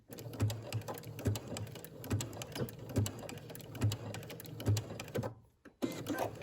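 A sewing machine back-stitching fabric, giving a steady run of quick mechanical needle thumps in a regular rhythm that stops briefly near the end before starting again.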